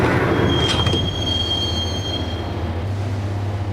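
A train ride in a video game, with loud wheel squeal and a steady low rumble from the moving carriage, heard alone throughout.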